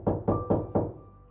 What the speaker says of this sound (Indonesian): terdengar ada yang mengetok pintu kamarku.